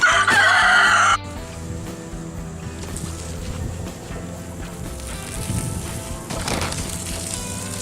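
Chickens and a rooster on a small farm: a loud burst of clucking and crowing in the first second, then a steadier mix of fowl calls and farmyard noise continuing at moderate level.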